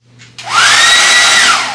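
A hair dryer blows steadily on hair during an at-home blow-out, rising from a soft start to a loud, continuous whoosh with a gliding motor whine, heard close up and alone.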